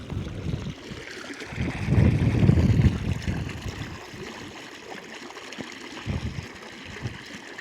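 Water flows and trickles nearby, swelling into a louder rushing surge partway through before settling back to a gentle burble.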